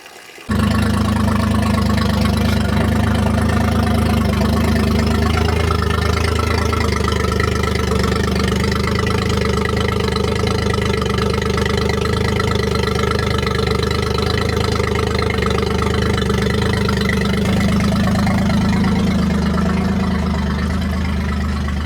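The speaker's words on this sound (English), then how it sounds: "So I'm running the engine with the water muffs on" A boat engine runs on water muffs, starting abruptly and then holding a steady, loud idle with a deep, even rumble for the rest of the stretch.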